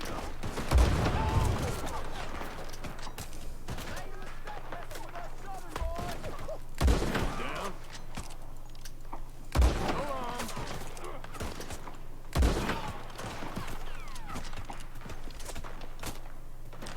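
Several sharp gunshots crack out at irregular intervals in Red Dead Redemption II, each a loud isolated burst over a steady low hum and background game sounds, with hoofbeat-like clatter between them.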